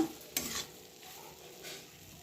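Dal and vegetables are mixed in a pot with a spoon, making a faint soft stirring scrape and a gentle low sizzle, with one brief louder scrape near the start.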